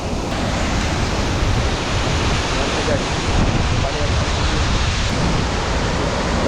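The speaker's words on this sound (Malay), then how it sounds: "Inilah dia guys, air terjunnya." Steady, loud rushing roar of a jungle waterfall near an Orang Asli village at Batu 49 in Cameron Highlands, a dense broadband wash of falling water that fills the whole stretch without a break.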